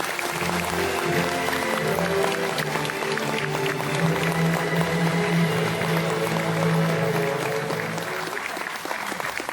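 Audience applause at a political party launch ceremony, dense and loud, sustained evenly throughout with a low hum of the hall beneath it.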